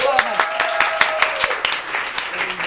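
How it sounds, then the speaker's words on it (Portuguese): A live studio audience claps along in a fairly even rhythm, with distinct repeated claps standing out over lively talk and a voice. "Tem pessoas batendo palma de verdade."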